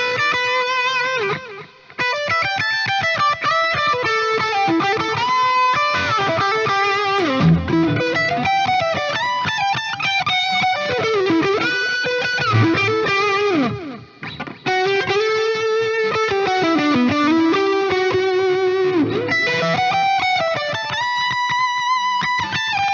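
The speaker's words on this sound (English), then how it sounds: "channel 5 is the boosted with slapback echo and the black hole reverb on the even tones" An electric guitar runs through a Friedman amp-in-a-box pedal setup with a boost, slapback echo and a huge black hole reverb, playing sustained, overdriven chords and melodic lines that swell and ring out continuously for over twenty seconds.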